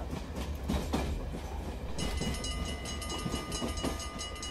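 A heritage tourist railway train runs along the rails, its rolling rumble and rhythmic clatter close and continuous, with a faint steady tone above, and no voices.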